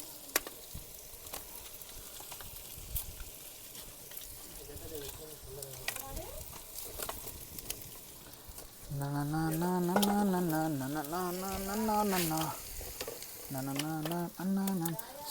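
Green chillies fry and are stirred in a wide pot over a wood fire, soft sizzling and scraping at first, then people talk loudly over the cooking.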